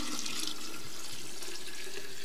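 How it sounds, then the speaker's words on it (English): Room-temperature tea is poured into a glass jar, a steady continuous splashing trickle of liquid heard close up and alone for a couple of seconds. "See if I can pour it without making a mess."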